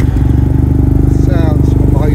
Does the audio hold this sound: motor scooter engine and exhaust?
yes